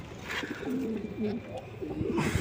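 Young pigeon squabs coo softly in a series of low, wavering calls close by, with a faint hiss of background noise throughout.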